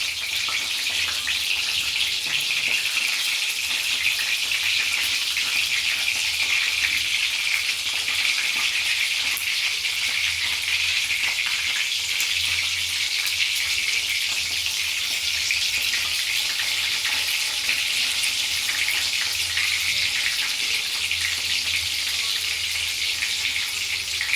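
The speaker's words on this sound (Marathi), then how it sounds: "आपले वांगे पण तेलामध्ये मस्त शिजून जातील आणि मसाला पण मस्त मस्त" Eggplant cooking in oil with masala in a pan, a continuous steady sizzle and hiss that holds at even loudness throughout, with no voices.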